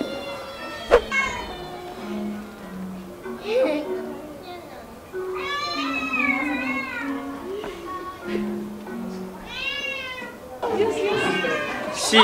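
A cat at the Orbi Yokohama indoor animal park gives several drawn-out meows, close and clear, while a baby and adults make sounds and talk around it.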